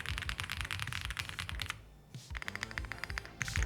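Typing on a Gravastar Mercury K1 mechanical keyboard, a rapid run of close, crisp key clacks with a brief pause midway before the keystrokes resume.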